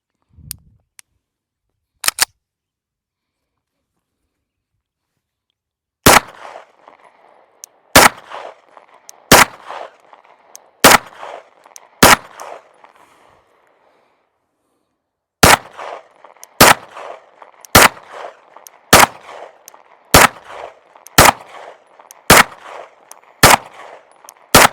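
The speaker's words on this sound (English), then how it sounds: "first shots with the new Stealth Arms Platypus" A Stealth Arms Platypus Glock-pattern pistol fires at a shooting range: about fifteen loud, sharp shots ring out close by, a few scattered early on, then a steady string of evenly spaced rounds.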